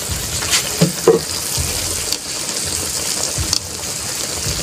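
Water comes to a boil in a pot while fried tamban paksiw is being cooked at home, giving a steady close bubbling and sizzling hiss with a few louder pops and no talk.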